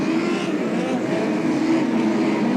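Midget speedcar engine running roughly during a dirt-track race at Archerfield, a continuous rasping drone with the engine note wavering, close and loud, with no talk over it.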